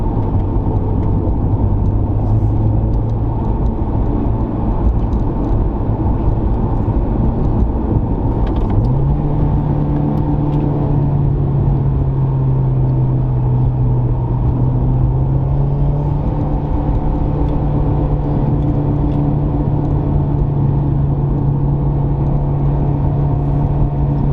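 A car drives a canyon road course, its engine humming and droning steadily inside the cabin with a clear pitch rise partway through as it speeds up, loud and continuous.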